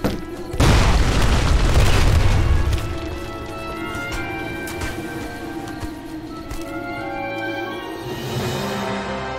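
A deep, loud bomb blast booms from the video game Lara Croft and the Temple of Osiris, then a long rumbling decay with scattered debris and crackle trailing under the game's background sound.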